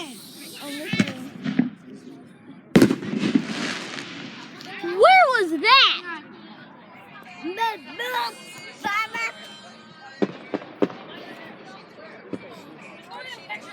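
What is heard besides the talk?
fireworks going off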